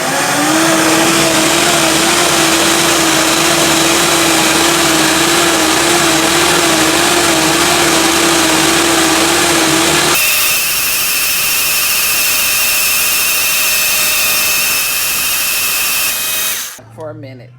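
A Ninja blender runs with dishwashing liquid inside to clean itself, giving a loud, steady motor whine that changes pitch partway through and then spins down at the end.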